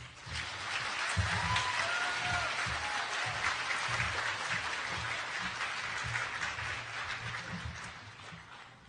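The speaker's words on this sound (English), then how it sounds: "please give another big round of applause for our keynote speaker, Dr. Xuan Fan" An audience at a youth excellence recognition ceremony applauds a keynote speaker, sustained clapping that swells and stays full across the clip, with faint voices mixed in.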